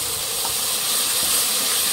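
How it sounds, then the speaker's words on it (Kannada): Freshly ground masala hits hot oil in a cooker and sizzles loudly, a steady hiss-like roar of frying that stays constant throughout. "ಇದನ್ನು ಫ್ರೈ ಮಾಡಿ ಎಣ್ಣೆಯಲ್ಲಿ"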